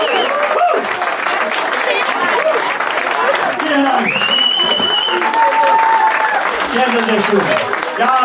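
An audience claps steadily through a fan meeting, dense and continuous applause filling the room, with chatter and a few voices rising over it and a brief whistle-like tone partway through.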